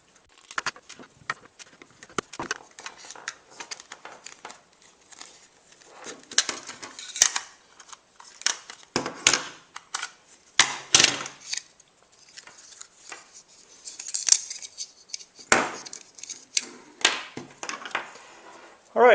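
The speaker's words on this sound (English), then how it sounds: "So we're going to take out these 3 screws here." Three screws are worked out of the keypad unit of a small code combination safe, heard as intermittent metallic clicks, scrapes and clinks of a screwdriver and loose screws, close up and separated by quiet gaps.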